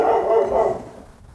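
A dog lets out a single loud, drawn-out bark up close, tailing off into quiet within about a second.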